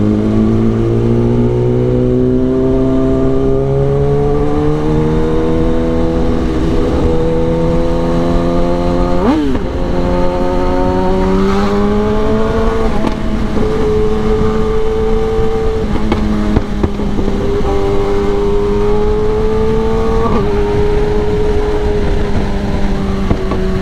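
A Kawasaki Ninja ZX10R sport motorcycle rides along, its loud engine droning steadily and rising and falling in pitch as the rider works through the gears, with no talking.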